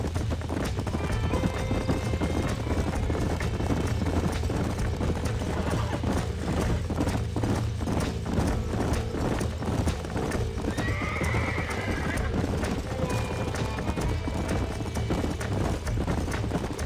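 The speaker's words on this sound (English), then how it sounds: "These are fine horses." Continuous clip-clop of horse hooves with repeated neighing and whinnying in the video game Red Dead Redemption, steady and fairly loud throughout, with no talking.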